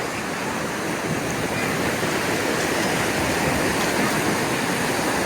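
Waves rolling onto a South Carolina beach, a steady broadband roar of surf with gentle swells in loudness, continuous and without speech.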